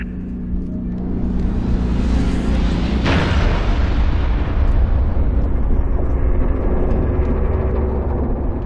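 Artillery fire pounds the battlefield in Halo: Reach, on a Legendary-difficulty mission. A rising whoosh builds into a sudden heavy explosion, and a loud, continuous low rumble follows and lingers.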